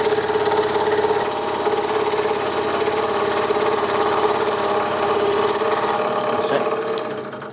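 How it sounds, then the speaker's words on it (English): A Hegner scroll saw cuts wood with a fast, loud, steady mechanical chatter, then winds down and stops near the end; no one speaks over it. "I'm going to have to stop the saw and lift it up and get it out because it's just a tiny bit of wood"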